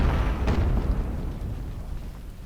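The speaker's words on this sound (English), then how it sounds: "Very good volley" A Civil War artillery volley in the Ultimate General: Civil War strategy game at the Battle of Chickamauga, heard as a dense, rumbling roar of cannon fire with a sharp burst early on, loud and sustained before slowly easing.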